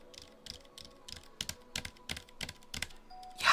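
Quiet, irregular keystrokes come from typing on a silenced Ducky One 2 SF mechanical keyboard, a dozen or so soft clacks at close range.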